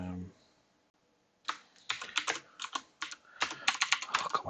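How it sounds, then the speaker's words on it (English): Fast typing on a computer keyboard comes in dense bursts of close clicks after a brief quiet opening, with a voice heard faintly at the very start. "God, my typing's bad."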